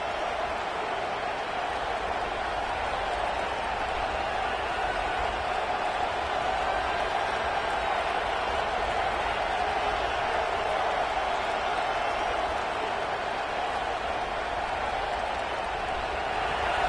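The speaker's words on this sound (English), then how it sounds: "listen to this crowd noise. This stadium is vibrating." A steady, distant roar of a large stadium crowd at an American football game in Tennessee, even and sustained throughout, with faint applause mixed into the constant wash of noise.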